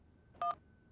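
A short burst of telephone dialing tones, two quick beeps close together, stands out alone against a quiet background.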